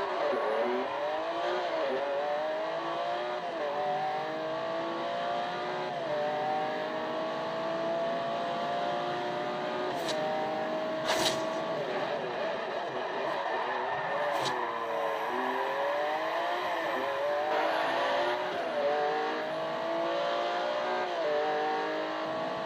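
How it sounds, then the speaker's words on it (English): Porsche engine in the Forza Horizon 2 racing game, loud and continuous, revving up and down through repeated gear shifts with brief tire squeal, no one talking throughout. "I'm trying to race his Porsche."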